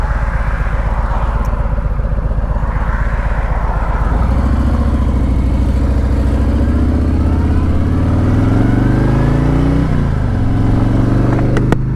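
A motorcycle engine drones loud and close while riding, a rough pulsing idle that swells into a smoother, rising tone as the bike accelerates through the gears.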